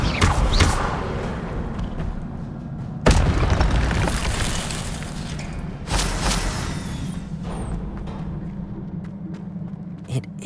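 Fire-spell explosions in Hogwarts Legacy, deep booming blasts at irregular intervals, three stronger bursts over rumbling background, loud and close with no talk.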